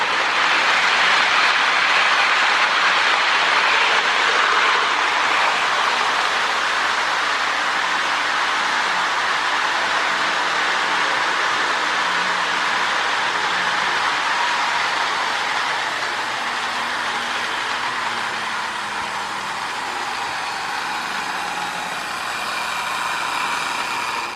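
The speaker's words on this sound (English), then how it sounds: "not a bad running little locomotive" A Lionel MPC NW2 switcher model locomotive runs continuously on track, giving a steady whirring motor hum and rolling rumble that stays close and even throughout, with no talk.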